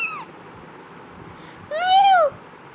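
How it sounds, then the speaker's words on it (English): A cat-meow ringtone plays two loud, clear meows, a brief one at the start and a longer, rising-then-falling one a moment later, with quiet between. "Meow. That's correct."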